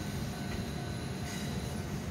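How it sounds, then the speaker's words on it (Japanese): A local train pulls into platform 7 at Iwamizawa Station on the JR Hakodate Main Line at night, giving a continuous loud rumble of wheels and carriages close by with a faint high whine above it. "7番線に列車が到着いたします。"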